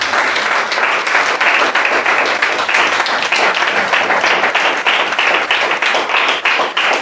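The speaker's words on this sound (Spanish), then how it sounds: "Bríndele un fuerte aplauso al Señor" A church congregation claps vigorously in praise during a sermon, a loud, sustained burst of many hands with a slight rhythmic pulse, continuous and close.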